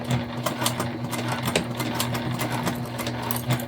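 Sewing machine top stitching a tote bag, a close, steady motor hum with rapid rhythmic needle ticking running continuously throughout, no voices.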